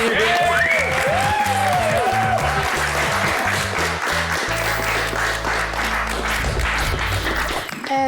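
A studio audience on a children's prank TV show applauds loudly and continuously, with bright music and a steady bass note playing beneath the clapping throughout.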